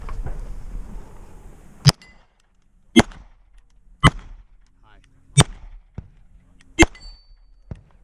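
Pistol shots ring out at a shooting competition, five sharp, loud cracks spaced about a second apart, each with a short echoing tail, over quiet background and no talk.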